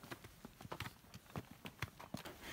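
Horse hooves clip-clop on a backcountry trail during a California hunting trip, a quick irregular series of soft, fairly faint thuds with no talking.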